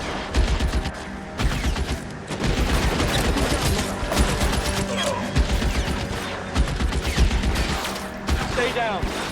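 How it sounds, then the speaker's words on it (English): Dense gunfire in the video game L.A. Noire: many loud, close shots in rapid, irregular volleys, continuous through the scene, with voices talking over the fight. "Too much shooting."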